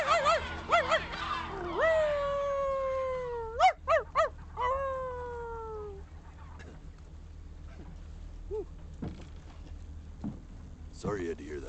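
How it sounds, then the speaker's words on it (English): Cat meows from the video game Blinking Simulator come as a cluster of rising, wavering cries near the start, with a few shorter mews and a final yowl later, over quiet background sounds. "I thought he was a kitty cat."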